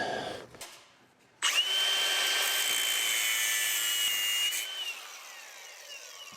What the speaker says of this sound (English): We're gonna cut it off and put a socket on it. Make it nice and short.